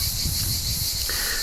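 Cicadas in garden trees give a steady, high, hissing drone that runs unbroken through the whole moment, with no voices.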